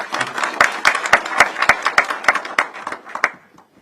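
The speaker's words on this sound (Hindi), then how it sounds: "जोरदार तालियां" Loud applause at a Samajwadi Party political rally, a burst of brisk, sharp hand claps from a gathered audience that thins and fades to silence near the end.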